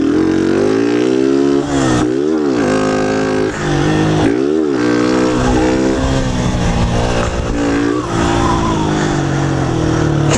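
A Honda Start motorcycle engine revs hard and loud up close, with repeated sharp throttle blips and dips around the two- and four-second marks, then sustained high revving.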